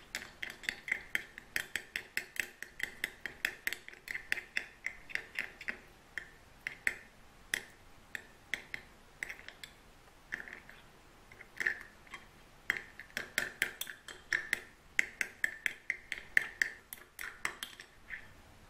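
Slime made of white glue and laundry detergent is stirred in a container, giving quiet wet clicks and sticky snaps in an uneven, steady rhythm, close up with no talking.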